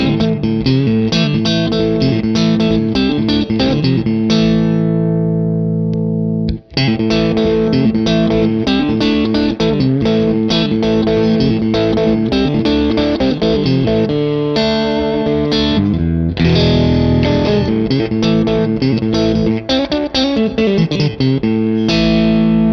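Electric guitar through a Wampler Cory Wong signature compressor with its 550 mid boost engaged, playing loud, continuous chordal and single-note phrases with a thick overdriven amp tone and one short pause near the middle.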